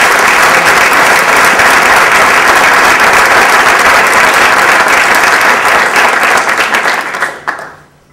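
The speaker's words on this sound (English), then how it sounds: "Let's give them all a big round of applause." Loud, sustained applause from a large audience at a Chamber of Commerce awards dinner in Amherst, a dense wall of clapping holding steady for about seven seconds before fading out.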